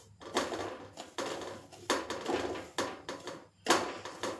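Semolina (rava) being dry-roasted in a pan for vegetable upma: a spatula scrapes and clatters against the metal in quick, irregular strokes, close by and crisp, with no voices.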